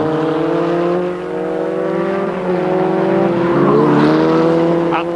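Formula Ford 2000 race cars at Brands Hatch in 1983, engines droning loud and steady as they race, one note climbing and falling as cars go past.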